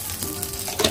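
Cumin seeds sizzling in hot oil in a pan while lemon rice is being cooked, a steady crackling fry close up with a brief stirring scrape near the end.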